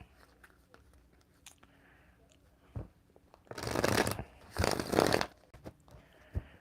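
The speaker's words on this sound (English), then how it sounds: "I can't even shuffle these cards." Playing cards being shuffled, two quick riffling bursts close by, with quiet background and faint taps between them.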